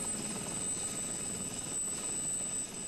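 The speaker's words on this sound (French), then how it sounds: "Trois hélicoptères de la police décollent de la capitale croate" Steady, close rotor and engine roar of three police helicopters taking off from Zagreb, Croatia, a dense constant drone with a thin high whine, unbroken throughout.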